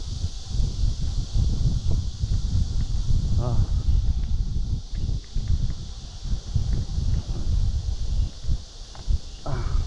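Wind blows steadily outdoors in the mountains with low rumbling gusts, plus occasional faint rustles and knocks; no one speaks.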